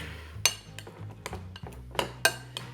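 A spoon stirs mac and cheese mixed with pickles and gummy worms, giving a few light, sharp clinks and scrapes against the dish. The sounds are close, quiet and irregular.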